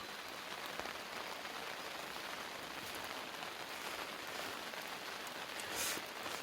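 Rain falls on a vegetable garden in Jeongseon, Gangwon Province, a soft steady patter of drops on leaves and soil with a few louder nearby splashes, quiet and without voices.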